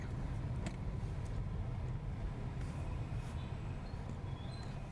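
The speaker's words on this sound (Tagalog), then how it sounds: "Nakita nyo yung traffic." Road traffic on the congested approach into BGC, a steady low rumble of nearby cars and engines with faint passing swishes, continuous and fairly distant.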